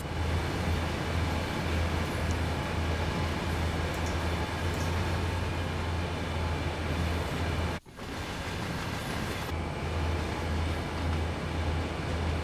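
An SD40-2 heavy freight train in Train Sim World 4 rolls along with a continuous loud diesel drone and rail rumble, broken by one brief dip in the sound before carrying on.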